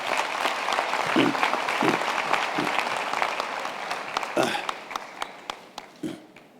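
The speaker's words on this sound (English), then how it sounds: "let's give a round of applause to our guest speaker" A graduation ceremony audience applauds a guest speaker, with dense, sustained clapping that thins out toward the end, a few sharper claps and faint voices scattered through it.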